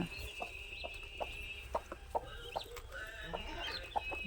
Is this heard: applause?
no